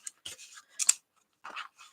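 Scissors cut paper for a waterfall journal, giving several short crisp snips in uneven bursts with quiet gaps between them, close and clear.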